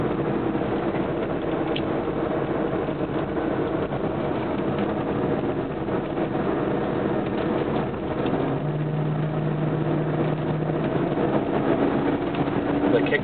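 A 2003 Hummer's engine drones steadily from inside the cabin as it accelerates through a kick-down, the transmission shifting smoothly with only a subtle change in pitch under continuous road and engine noise.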